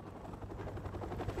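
A helicopter in Call of Duty: Modern Warfare gives off a steady, throbbing rotor thump with rumbling low-end beating that stays continuous and moderately loud throughout, with no speech.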